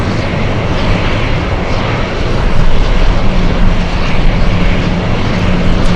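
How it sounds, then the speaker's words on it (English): An Atlas Air Boeing 747 lines up for takeoff at an airport runway, its jet engines giving a loud, continuous broadband roar heard from a distance that swells slightly partway through. "Let's go for the Atlas, Queen of the Skies, lining up."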